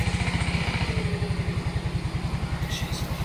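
A motorcycle engine runs close by with a steady, throbbing idle.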